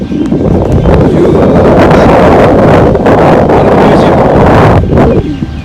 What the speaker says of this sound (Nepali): एकदम हावाले हानेको छ चिसो